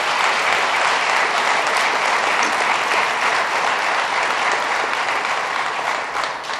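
Audience at a summit on harmful algal blooms in the Hudson Valley applauds state officials, a dense, loud, sustained wash of clapping that tapers slightly at the end.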